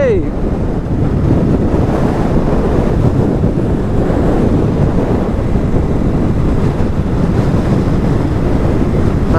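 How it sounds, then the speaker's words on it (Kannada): Strong sea wind and crashing surf on the Dhanushkodi coast make a loud, steady roar that never lets up, with gusts buffeting the microphone throughout. "ಗಾಳಿ ಏನಪ್ಪಾ ಹಿಂಗ್ ತಳಿತೈತೆ"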